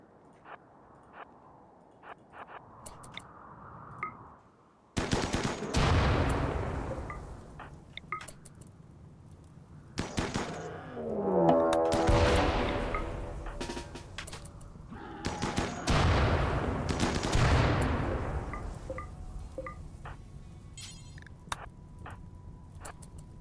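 Gunfire from hunting boomalopes in RimWorld, bursts of loud rapid shots arriving in several clusters roughly five seconds apart, with crackling decays and scattered sharp ticks between them over quiet background.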